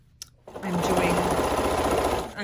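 Sewing machine stitching a cuddle binding onto a quilt at about a 3/8 inch seam, starting after a brief pause with a close, rapid, even mechanical whir and needle chatter; a voice speaks softly beneath it.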